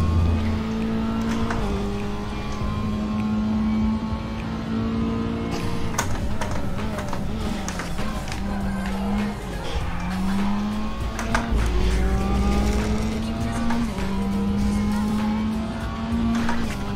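A race car in Raceroom at Zolder drones through rising and falling engine revs and gear changes, with tyres squealing and scrubbing through slides, loud and continuous without talk.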